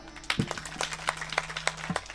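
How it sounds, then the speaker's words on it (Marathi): An audience claps at a kirtan, a short burst of scattered rhythmic claps at close range, fairly faint, with a held sung or droning tone beneath. "जोरात वाजवाना टाळ्या"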